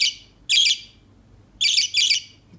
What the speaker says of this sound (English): Jay, he's our little budgie